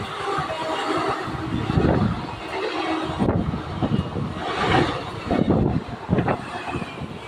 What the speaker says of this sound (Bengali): সামনে দিয়ে ছুটে আসছে তেরো হাজার একশো অষ্টআশি মাতার এক্সপ্রেস ট্রেনটি এখন যাচ্ছে শিয়ালদাহর দিকে